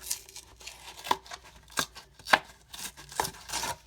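A journal box being cut open by hand, producing a few sharp, separate snipping and slicing cuts with short pauses between them, close up and with no voices.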